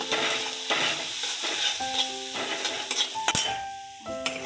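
Onion with turmeric and red chilli powder sautés in a pan, a steady close sizzle running throughout with occasional scraping stir strokes and light metallic clinks.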